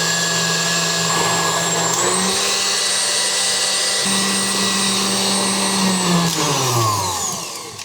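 An electric mixer whips egg whites with a pinch of cream of tartar for a cheese soufflé, its steady motor whine shifting speed around two seconds and slowing down at the very end.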